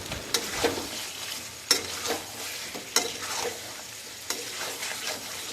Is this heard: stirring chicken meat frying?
yes